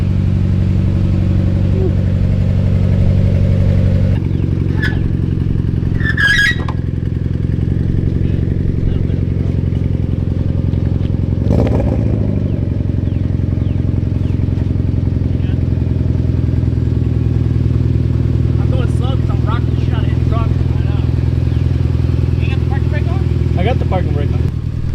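A Mitsubishi Evo X engine runs with a fault, a steady low droning idle that continues throughout, with some brief clattering and someone talking over it now and then.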